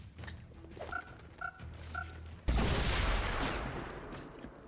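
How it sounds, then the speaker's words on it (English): Plasma grenade in XCOM Chimera Squad: three short electronic beeps, then a sudden loud broadband blast that rumbles and slowly decays over the last two seconds. "Might as well use the plasma grenade."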